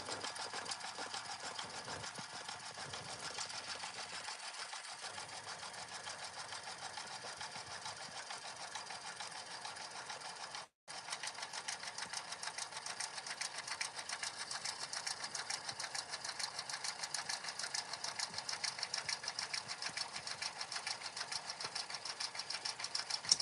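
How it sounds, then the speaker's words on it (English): Sewing machine fitted with a fresh needle stitching down the vinyl inside pocket of a card case, running steadily and close up with one brief pause midway. "my machine was much happier stitching down the vinyl this week"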